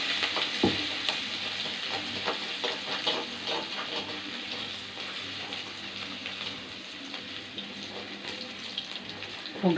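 Garlic and mustard seeds fry in hot oil for a fish kuzhambu curry, making a continuous close sizzle and crackle with occasional stirring clinks.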